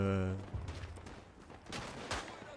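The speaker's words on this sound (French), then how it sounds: "Et il a tiré." Gunfire in the First World War shooter Tannenberg, with a couple of sharp distant cracks following a tonal burst at the start, under quiet background sound.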